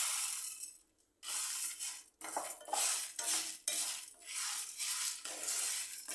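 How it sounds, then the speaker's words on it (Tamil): Coriander seeds dry-frying in a pan over a low flame, stirred with a spoon that scrapes and clinks against the metal in repeated rattling strokes with brief gaps. "லோ ஃப்ளேம்லேயே நல்லா ஃப்ரை பண்ணிக்கோங்க."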